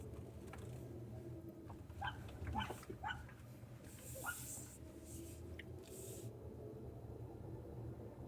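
A dog being walked along a suburban street gives a few short yips and whimpers, fairly faint, over the steady hum of a car interior.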